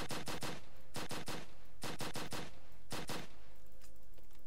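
Gunfire in the Roblox zombie game The Living Dead comes in loud, rapid bursts of three to four shots each, separated by short gaps and repeating steadily up close.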